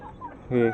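Free-roaming hens in a backyard coop give a few soft, scattered clucks, then one louder, drawn-out squawk from a single bird close by.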